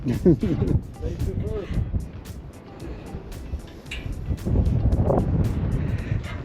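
Gusty wind buffeting a microphone at the top of Colorado's big sand dunes, a low rumbling roar that swells and fades, while people talk over it.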